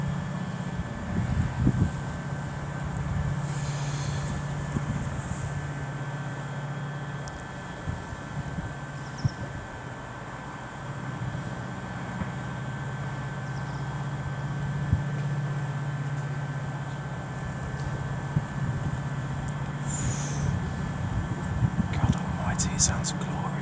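A DRS Class 68 diesel locomotive hauls a freight train through Rugeley Trent Valley station, a steady low engine drone that persists throughout with intermittent rumbles and clanks.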